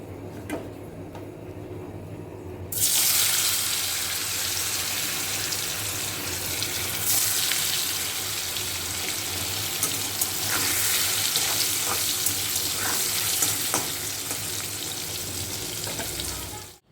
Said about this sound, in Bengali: এখানে পনিরটা ভাজবো একটুখানি হালকা করে